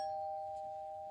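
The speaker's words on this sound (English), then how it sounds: "That was my doorbell." A single electronic doorbell tone rings, clear and sustained, fading slightly over about a second.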